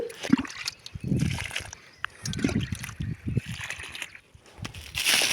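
Water pours and sloshes in irregular bursts onto newly planted strawberries in a garden bed, each splash close and fairly loud, separated by short quiet gaps.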